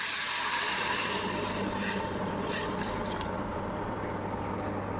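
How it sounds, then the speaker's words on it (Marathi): Hot water poured into a pan of roasted semolina for sweet kanheri, giving a steady, continuous rushing hiss and bubbling that stays fairly loud and even throughout, with no voices. "मी इथे घेतलं गरम पाणी आणि ते गरम पाणी मी आता ओतून घेते."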